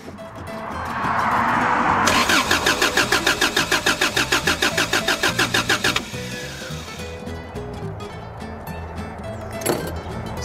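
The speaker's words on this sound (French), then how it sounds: "Ça démarre plus." A car engine cranks repeatedly without catching, a rapid rhythmic churning of the starter for several seconds that cuts off abruptly, followed by a lower hum and a short thunk, loud and close.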